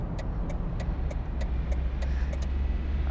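Simulated car engine idling low and steady in the City Car Driving game, a constant rumble with faint regular ticking like a turn signal over it.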